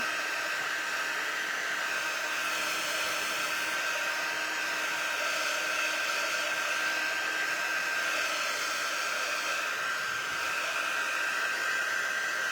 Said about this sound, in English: Let's hit the dryer with this.